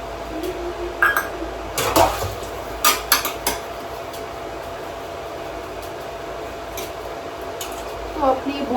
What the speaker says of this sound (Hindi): मैं बर्तन धुलती हूँ जब तक।